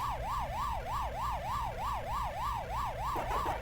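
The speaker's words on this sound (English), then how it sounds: "I do like that the little siren background sound is more intense with the more dots you eat." A rising-and-falling electronic siren tone from the Pac-Man arcade game loops steadily in the background, about two and a half cycles per second, repetitive and unbroken with no talking.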